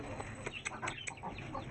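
A brown hen clucks in a series of soft, short calls close by, with faint background noise and no talk.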